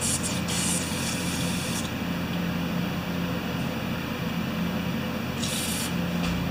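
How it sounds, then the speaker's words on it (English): Carb cleaner hisses from an old aerosol can in short bursts, a couple of faint sprays near the start and end over a steady low background hum, during carburetor work on a Craftsman Easy Walk lawn mower. "I got 2 old cans of carb cleaner I'm trying to use up"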